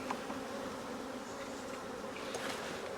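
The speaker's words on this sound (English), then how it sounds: "I'm going to take these bees that are on the frames that were the old brood frames and shake them off into the hive" Honey bees shaken off old brood frames into a hive make a dense, steady buzzing swarm drone, loud and close with no talk.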